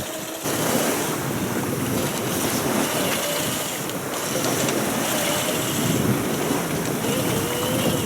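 Waves wash against a sailboat out at sea in rough Scandinavian waters, a steady broadband rush of water and wind noise running throughout, close and continuous, with no voices.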